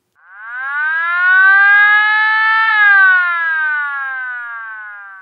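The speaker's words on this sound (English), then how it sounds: "To achieve the tail-off sound," A Hootronic electronic sounder gives a loud, close siren wail that rises slowly in pitch, holds, then tails off gradually downward, sounding alone.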